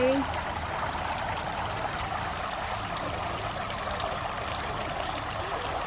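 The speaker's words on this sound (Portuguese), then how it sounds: "Olha o barulhinho da água, que delícia, hein?" Water flows and trickles in a pond of an oriental garden, a soft continuous burble heard at moderate distance under a faint background, with no clear speech in the clip.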